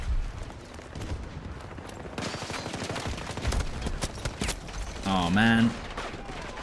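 Gunfire from a revolver in Battlefield 2042 pops in scattered bursts amid the clatter of a busy battle, with a player's voice briefly speaking over the shots.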